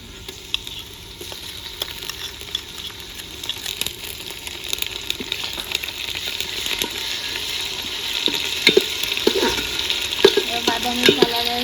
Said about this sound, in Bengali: আদা রসুনের পেস্ট দিয়ে দিচ্ছি